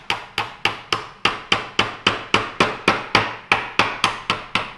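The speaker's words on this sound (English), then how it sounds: "Look at that, tiny hammer coming in handy again." A small hammer taps steadily on the gas tube key of an AK-pattern rifle, about sixteen sharp, evenly spaced metallic knocks in quick succession, close and clear with no talking.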